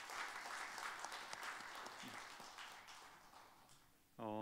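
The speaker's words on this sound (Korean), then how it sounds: "격려의 박수 한번 하겠습니다" A church congregation at a Wednesday service claps in a full, steady round of applause, then a voice starts to speak right at the end.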